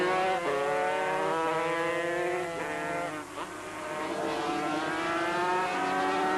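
A 500cc four-cylinder Suzuki racing motorcycle screams around the Oran Park circuit with other bikes, its loud high-revving engine climbing through gears, dipping briefly as the rider shifts down, then winding back up.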